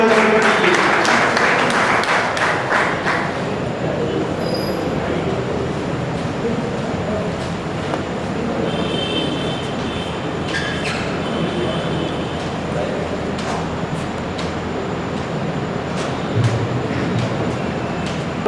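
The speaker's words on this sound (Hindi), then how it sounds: "तालियों से" Audience applause at an All India Mushayra poetry recital: dense clapping that is strongest in the first few seconds, then thins into a steady, noisy hall murmur with scattered claps.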